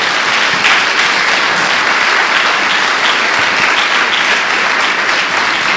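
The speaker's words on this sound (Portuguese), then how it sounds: "Dê uma salva de palmas ao Senhor." A church congregation claps together in loud, dense, sustained applause that fills the room evenly for several seconds, with no talk over it.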